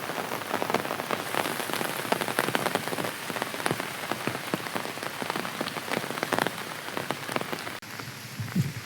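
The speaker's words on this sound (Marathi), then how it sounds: "पाऊस जसं आहे पानांच्यावरती थेंब पडतात ना जेवढ्या स्पीडमध्ये" Rain falls on tree leaves in a forest, making a dense, continuous patter of drops that is close and fairly loud, with no voices.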